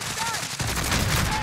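Bursts of close gunfire in Warzone, a quick rattle of shots with a heavy impact around the middle, under faint game noise.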